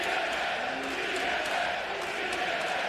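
A wrestling crowd at a TNA knockouts match in Montreal roars and cheers, a broad continuous swell of many voices filling the arena with scattered louder shouts.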